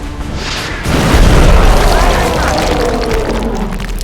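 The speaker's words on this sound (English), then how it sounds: "that's a lot of car explosion death" A rocket strike in the turn-based strategy game XCOM: Enemy Unknown sets off a loud, booming blast that tears through parked cars, its deep explosive roar swelling suddenly and rumbling on as a sustained, debris-filled wash, with a voice talking over it.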